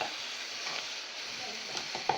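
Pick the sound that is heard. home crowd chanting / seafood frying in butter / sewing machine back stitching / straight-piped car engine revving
seafood frying in butter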